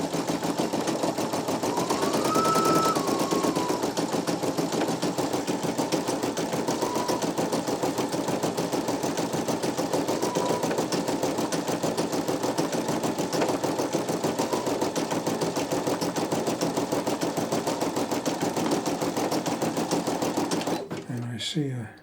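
Two Brother embroidery machines run together while stitching underlay, a loud, steady, fast mechanical chatter that holds without break for about twenty seconds before cutting off at the end.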